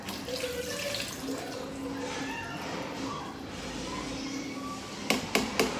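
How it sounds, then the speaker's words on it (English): Water runs steadily from a tap or cup into a cooking pot while corned beef is being prepared, a continuous close splashing flow that ends with a few sharp knocks near the finish. "now let's add some water"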